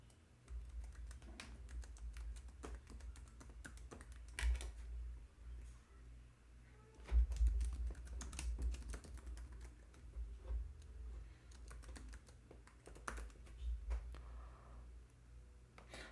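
Computer keyboard keys are typed in steady, uneven bursts of close, crisp clicks while card details are entered, with brief pauses and a few heavier key strikes, and no voices.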